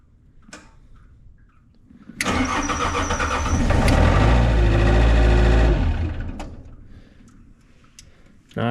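A Nissan N260 mini excavator's diesel engine cold starts: a loud cranking burst breaks into a rough, rattling run that swells, holds for a few seconds, then dies away, with quieter knocks before and after.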